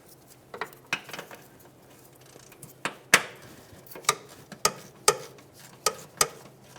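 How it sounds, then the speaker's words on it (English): Sharp metallic clicks and clinks from removing 10mm headed bolts on the rear ABS wire bracket of a 2003-2007 Honda Accord, about a dozen irregular ticks spaced across several seconds, close and fairly quiet with no talk. "Remove the 10mm headed bolts holding this in place."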